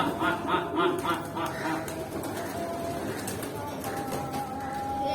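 Pigeons coo softly while gathering for scattered feed on a farm, low murmuring calls repeating under a busy outdoor background with people talking nearby.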